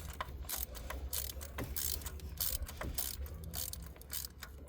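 A ratchet wrench with a spark plug socket clicks steadily as it breaks loose a spark plug on a 2016 Nissan Murano, a quick, close, rhythmic series of pawl ticks over a low hum.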